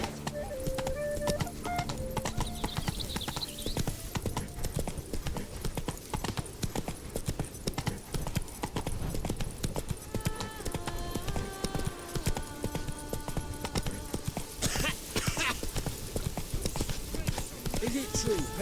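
Geralt's horse Roach in The Witcher 3 gives a continuous, rapid stream of hoofbeats, close and steady throughout, layered with game music and occasional ambient tones.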